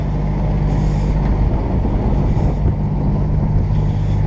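Harvested rapeseed pours into a semi-truck trailer, a steady loud rushing roar layered over a droning engine, with no talking.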